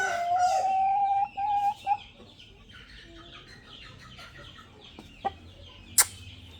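Chickens cluck and a rooster's call sounds near the start, followed by quieter farmyard clucking and a few sharp bursts.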